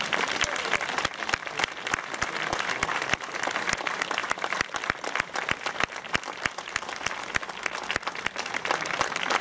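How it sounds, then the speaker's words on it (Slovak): Loud, sustained audience applause at an outdoor star unveiling on a walk of fame in Zvolen, with sharp individual claps standing out over a dense continuous crowd clapping throughout. "Veľký potlesk"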